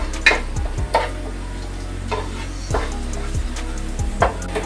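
Roasted rava (semolina) being stirred in ghee in a pan, with a soft continuous sizzle and a few light spoon scrapes and taps against the pan at irregular intervals, close and moderately quiet.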